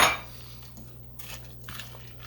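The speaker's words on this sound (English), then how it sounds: "So now what I'm going to do is I'm going to add the peas." About a cup of frozen peas tumbles into a pot of tuna and noodles, giving a brief cluster of light clinks and rattles near the start, then quieter scattered taps over a low steady kitchen hum.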